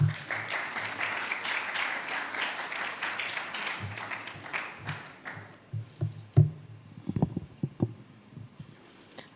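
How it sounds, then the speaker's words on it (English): Applause from the audience at an architects' annual general meeting fills the first half, then thins into scattered claps and knocks with faint background noise. "With a round of applause,"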